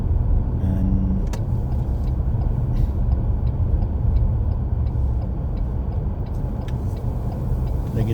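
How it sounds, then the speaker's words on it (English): Car driving on a snowy road during a snow squall, a steady low road rumble and engine drone throughout with faint ticking, no talk. "I really like driving in the snow."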